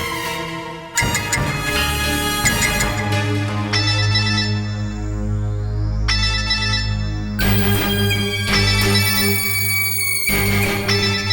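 A phone ringtone plays a bright, tonal melody, loud and continuous for about eleven seconds, with its phrases repeating.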